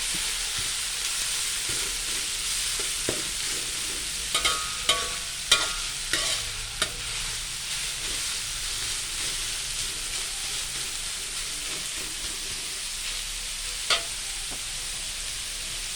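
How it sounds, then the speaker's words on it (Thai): Ginger frying in hot oil in a pan until fragrant and crisp, for a stir-fry with wood ear mushrooms: a steady close sizzle throughout, with a few sharp clinks and scrapes of stirring around the middle. "ขิงลงไปเจียวก่อน เจียวขิงให้หอมหอมกรอบ"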